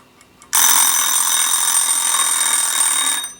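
A Kikkerland Kitty Cat kitchen timer rings out loud and close, a continuous bright metallic bell ring lasting about three seconds after a faint ticking start, with no talking.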